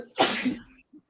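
A single sharp sneeze, close and abrupt, followed by a brief soft sound.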